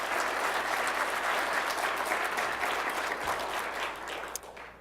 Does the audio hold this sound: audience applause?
yes